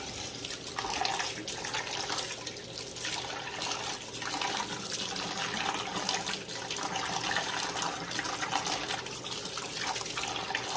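Tap water runs steadily into a sink while squirrel meat is rinsed under it, a loud, continuous splashing rush with small changes in the flow as the meat is turned.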